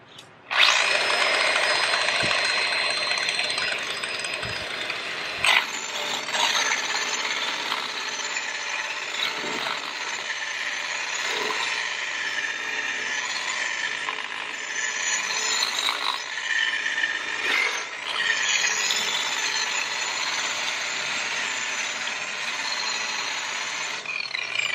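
An electric burnishing polishing machine with a sandpaper wheel spins at speed setting 600, a loud, sustained grinding whir that starts abruptly and continues for about 25 seconds, with brief scraping bumps as the workpiece is pressed against it.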